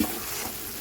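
Spice paste frying in oil for dhokar dalna after long sautéing, a dense steady sizzle with a slight stirring texture, close and even throughout the short stretch.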